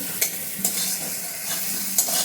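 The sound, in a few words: frying eggs with spices in a pan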